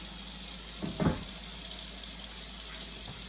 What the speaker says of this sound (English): I'm going to add some cold water to it to cool it down.